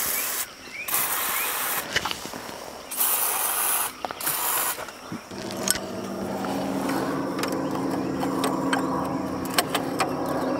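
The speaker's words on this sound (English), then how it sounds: "I sprayed some more penetrating oil on that." Several short hissing bursts of penetrating oil sprayed from an aerosol can onto bolts of a skidder. Light metallic clinks and tool rattles follow under a steady background hum.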